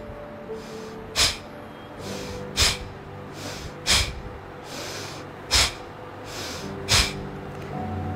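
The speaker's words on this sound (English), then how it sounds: "breathing out, pulling the tummy in and throwing the air out with a jerk." Forceful exhalations from a yoga breathing exercise, with the tummy pulled in to throw the air out in sharp jerks: six short, loud bursts about one to one and a half seconds apart, close and alone.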